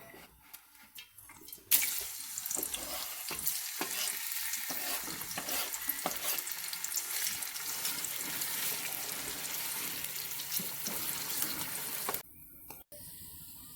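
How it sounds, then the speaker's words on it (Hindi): Sliced onions go into about a cup of hot oil in a large pot, erupting into a loud, dense sizzle after a few quiet clinks, then hissing and crackling steadily before cutting off abruptly near the end. "इसमें तकरीबन 1 कप ऑयल है जो ऑलमोस्ट गर्म हो चुका है। और इसमें सबसे पहले प्याज जाएगी।"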